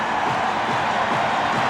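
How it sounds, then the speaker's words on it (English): A loud basketball arena crowd at the United Center during the 1996 NBA Finals Game 6 between the Seattle SuperSonics and Chicago Bulls roars in a steady, dense wash of cheering. "this crowd has been very loud early on"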